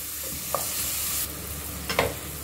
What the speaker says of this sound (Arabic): هنزل بقى على الماده الدهنيه معايا جزرايه وبصلايه. هنزل بهم كده واقلب الكلام الحلو ده يدبل معايا